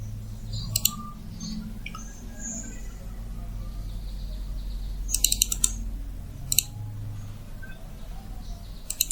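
Typing on a computer keyboard while working in Microsoft Word, heard as scattered bursts of sharp key clicks over a faint background hum.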